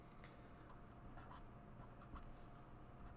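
A pen or marker writing out an algebraic expression with cube roots, steady faint scratchy strokes in a quiet room with no talking.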